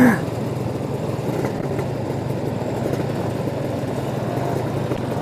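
A scooter engine runs steadily on a dyno during a clutch test, a continuous mid-pitched drone holding an even, fairly loud level throughout with no talk.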